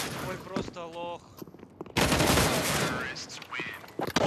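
Bursts of gunfire in a shooter video game, a sudden dense volley that sustains for about two seconds after quieter game sounds, with a voice heard shortly before the shots.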